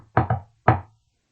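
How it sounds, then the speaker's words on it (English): Three firm knocks on a door set into a rock, two quick raps followed by a single one after a short pause, close and alone. "The robbers knocked,"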